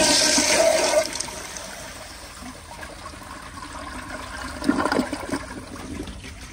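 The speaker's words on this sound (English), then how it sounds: "Now I'm gonna do more of a close-up flush like this." A 1972 Kilgore Argus toilet with double siphon jets flushes up close, a strong rushing surge at the start that settles into a gurgling, trickling refill, with another watery swell later.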